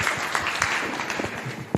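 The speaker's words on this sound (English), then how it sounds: "big round of applause for" Applause from an audience for presenters at a young naturalists' science tournament, a dense burst of clapping throughout with a few sharper claps standing out near the end.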